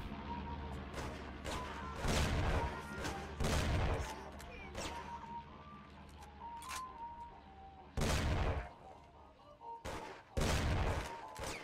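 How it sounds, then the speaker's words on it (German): Gunfire erupts in the Mafia video game as loud, close bursts of shots in several separate volleys, with quieter stretches and a faint music bed between them. "Ich wollte eigentlich nur einmal schießen."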